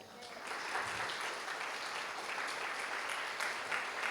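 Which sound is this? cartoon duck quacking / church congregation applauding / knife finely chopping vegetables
church congregation applauding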